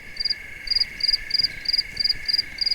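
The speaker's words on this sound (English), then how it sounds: "It's a very loud cricket," Loud cricket ambience from a fishing video game, a shrill, evenly paced chirping in short pulsed bursts roughly every half second over a steady high-pitched insect drone.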